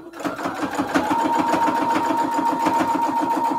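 A sewing machine runs at steady speed while piecing cathedral window quilt pillowcases, making a close, continuous rapid clatter of needle strokes with a faint motor hum beneath.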